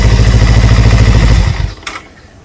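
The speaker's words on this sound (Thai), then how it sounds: "เดี๋ยวขอดับเครื่องก่อน" A motorcycle engine idles loud and close with a rapid, even putter near a cam chain tensioner, then is switched off and dies away in a short falling rumble, leaving only faint ticking and quiet.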